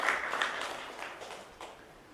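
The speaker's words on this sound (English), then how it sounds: "Let's give him a huge round of applause" Brief applause from a conference audience at a procurement leaders summit panel, a faint wash of clapping that fades away over two seconds.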